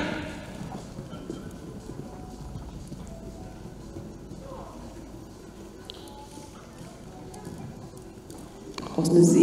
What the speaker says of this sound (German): Und hier sehen wir ihn im leichtfüßigen, ebenfalls im leichtfüßigen Galopp, mal im Kurzgalopp.